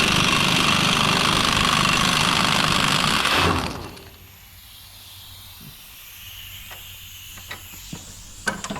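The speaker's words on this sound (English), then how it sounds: "I think we're gonna have to use the pneumatic." A pneumatic air tool works on a 612C chain roll, a loud continuous hissing burst lasting several seconds that cuts off abruptly, followed by quieter workshop ambience with a few small clanks.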